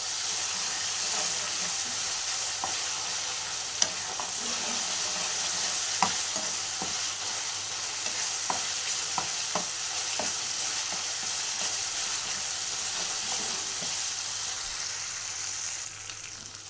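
Ginger paste and onions frying in a pan for a mutton curry, a continuous close sizzle with occasional sharp scrapes and taps of a spoon stirring.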